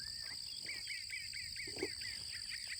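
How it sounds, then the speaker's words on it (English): Birds chirp in repeated short calls outdoors over a steady high insect-like buzz, moderately distant, with no one speaking. "there's a lot of bird noise."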